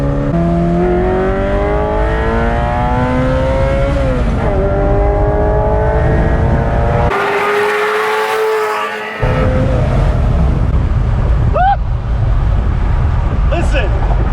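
Ferrari 348ts V8 with Capristo catalytic-converter bypass pipes and a 2B exhaust, revving loudly and repeatedly close by with rising and falling pitch, a short pause midway, then sharp blips near the end.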